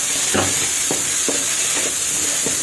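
Bottle gourd (upo) sautéed in a pan with onion and tomato, a constant sizzle broken by several soft scraping stirs at regular intervals, without any talk.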